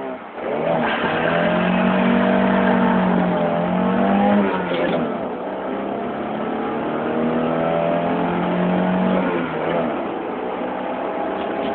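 A Volvo 242 with a B21A engine, 3-inch filter and original exhaust accelerates from 0 to 100 km/h, revving hard and climbing steadily in pitch through several gear changes, loud and close, sustained throughout.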